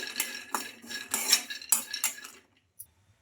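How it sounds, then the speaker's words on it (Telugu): Peanuts being lightly fried in a kadai, stirred with a metal spoon that scrapes and clinks against the pan in quick close strokes for a couple of seconds before falling quiet. "కడాయి అయితే పెట్టేసుకొని అందులోకి పల్లీలు అయితే వేసుకుంటున్నానండి ఈ పల్లీలను కొంచెం లైట్గా ఫ్రై చేసుకోవాలి"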